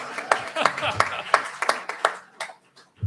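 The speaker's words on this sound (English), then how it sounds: "Round of applause for the timekeeper." Scattered clapping rises from the audience at an Oklahoma GOP governor candidates' forum, a run of distinct, close hand claps that thins out and fades near the end.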